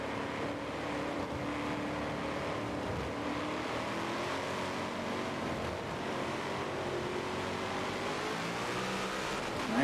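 GT race cars roar off the start of a Daytona 24-hour race in a racing video game, a dense, steady drone of many engines at once, rising slightly in pitch and holding loud throughout with no talking.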